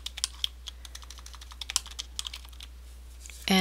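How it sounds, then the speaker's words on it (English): Brisk keystrokes on a computer keyboard as a library catalog search is entered, a quick irregular run of close, crisp clicks that ends in a brief louder burst. "we'll type in Anna Karenina"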